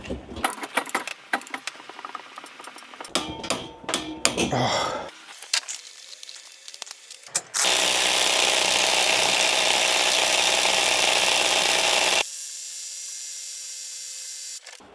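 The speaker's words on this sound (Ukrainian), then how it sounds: "Максимально, що може цей ключ, це є 345 ньютон на метр." Procraft Industrial ID20A cordless impact wrench straining against a stubborn bolt, a loud sustained whirring hammer burst of several seconds following clinks and handling noise, then a steadier lower motor hum.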